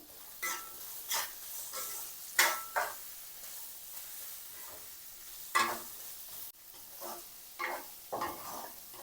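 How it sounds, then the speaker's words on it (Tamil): Capsicum sautéing in a pan with onion for a capsicum curry with dried fish, a soft background sizzle punctuated by intermittent scraping stirs in uneven bursts, close and moderately loud. "இந்த கறி மிளகாய் நல்லா வதங்கி வரணும் அந்தளவுக்கு இப்படியே இடக்கிட கிளறி விட்டு வதக்கி விட்டு கொள்ளுவோம்"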